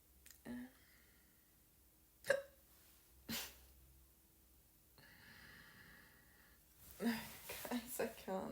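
A woman's hiccups, several abrupt, separate jolts with breathy gasps between them, close and fairly quiet, with brief murmured sounds toward the end.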